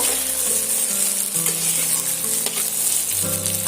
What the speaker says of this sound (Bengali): আমি আলু আর পটলটা ভালো করে কষিয়ে নেব